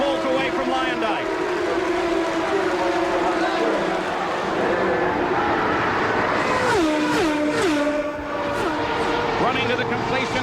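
1993 Indy 500 race cars screaming down the long backstretch, engines whining and climbing in pitch as they accelerate, with a Doppler drop as cars pass, under continuous commentary.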